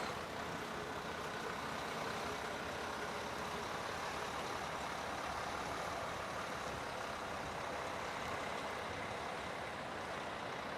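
A Class A truck idles and rumbles as a steady, continuous engine drone during a CDL backing exercise in an alley of cones, unbroken throughout.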